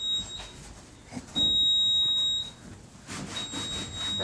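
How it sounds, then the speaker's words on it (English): In a garage, a piercing electronic alarm tone sounds in repeated bursts, roughly one second long, with a short gap between them over faint background rustling; no one speaks. "Why you all complaining about a beeping sound?"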